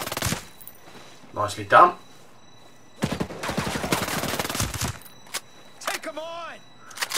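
Bursts of machine gun fire from a turret in Ghost Recon Breakpoint, a short loud volley followed by a longer sustained stretch of rapid shots, with talk heard around the gunfire.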